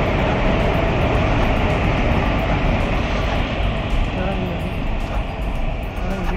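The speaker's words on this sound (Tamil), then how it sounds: "ஸோ திருச்சி ட்ரெயின் போகுது." A train bound for Tiruchirappalli passes a railway crossing with a loud, close, continuous rumble and clatter that fills the whole stretch, while voices can be made out faintly underneath.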